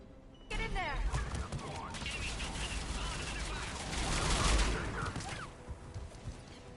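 Rapid gunfire rattles through a firefight at a checkpoint under attack by Cerberus troops in the video game Mass Effect 3, with sustained bursts and overlapping shots swelling loudly near the middle before easing off.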